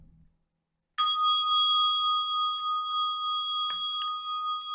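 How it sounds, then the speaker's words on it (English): A meditation bell is struck once in a Zen practice setting after a moment of quiet, then rings out with a long, pure, sustained tone that slowly fades, accompanied by a faint clink partway through. "I'll give you a bell if you don't mind, Bill."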